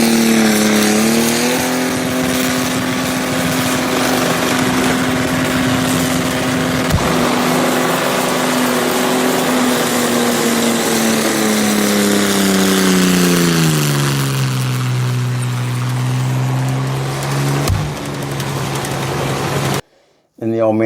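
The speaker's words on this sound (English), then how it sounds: "So the first actual decent skid on a pad that car's done." A race car on a skid pad at an AutoFest event holds a loud, sustained engine drone that climbs and then sags in pitch as it skids, running steady for about twenty seconds before cutting off abruptly.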